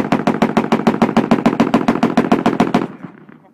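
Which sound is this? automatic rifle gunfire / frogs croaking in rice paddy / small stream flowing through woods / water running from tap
automatic rifle gunfire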